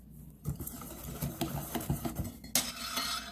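Hot cake batter is whisked in a bowl, the utensil tapping and scraping against the sides in a quick irregular rhythm, close and moderately loud, with a brighter rattling burst near the end.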